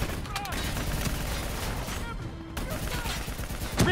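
Dense, continuous gunfire from a firefight against a VTOL in Call of Duty: Black Ops III rattles loud and steady throughout, mixed with explosions and shouted voices.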